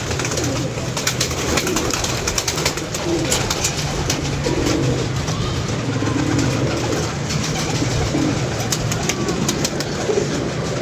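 Pet pigeons coo in low, repeated throaty phrases close by, over a steady background of rustling and outdoor noise.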